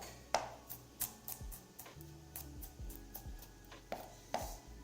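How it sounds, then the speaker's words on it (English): Garlic being chopped with a knife in a home kitchen while making meatball subs from scratch: a steady series of sharp, clicking blade strikes on a cutting board, close and fairly even in rhythm, with no speech. "Go back to chopping the garlic."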